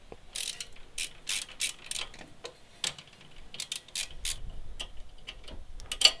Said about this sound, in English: It's a 14mm bolt. Just gotta loosen it.